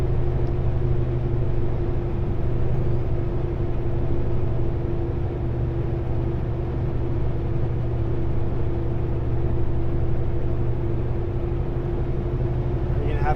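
Heavy haul truck engine grinding along under load as it drops through the gears and loses speed, a steady deep drone with a constant hum and little change, loud and close inside the cab.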